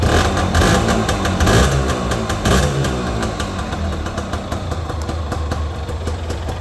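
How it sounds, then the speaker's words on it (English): Gilera MXR 125 two-stroke motorcycle engine running after startup, a close, loud, rapid buzzing pop with a few sharp revs early that settle into a steady idle. "Gilera Mxr 125 walk round startup, little 2-stroke"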